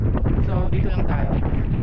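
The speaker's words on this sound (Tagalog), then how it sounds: "hindi rin pwede magpalipad ng drone kasi napakalakas ng hangin" Strong coastal wind in Ilocos Norte buffets the microphone in heavy, continuous low rumbling gusts, with a voice faintly audible underneath.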